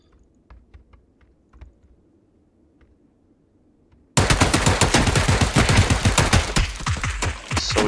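Sustained rapid automatic gunfire in PUBG, a loud dense burst of shots starting midway after a quiet stretch with faint scattered clicks, continuing without pause to the end.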